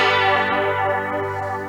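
Tele-style electric guitar run through an Electro-Harmonix Deluxe Electric Mistress flanger, a sustained chord swirling with sweeping, chorus-like comb-filter motion, loud and close with no talking.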